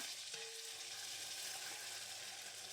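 Chicken coated in sweet paprika is stirred in a hot pan for buffalo chicken, giving a steady, even sizzle with soft scraping that carries unbroken throughout, without any talking.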